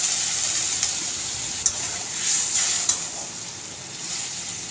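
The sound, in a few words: water added to sizzling spice masala in pan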